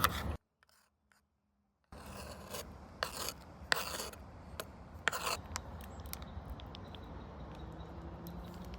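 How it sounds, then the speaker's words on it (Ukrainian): A knife finely chops garlic on a board for a garlic sauce for shawarma, giving a steady close rasping scrape broken by sharper knocks, after a brief near-silent pause at the start. "Ну Просто так і дрібненько рубаю його і все."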